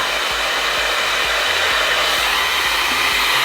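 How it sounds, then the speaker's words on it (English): A blow dryer roars loud and steady up close while it lifts short hair at the roots for volume. A faint low rhythmic ticking runs underneath. "Then now I'm gonna take the blow dryer and blow it up."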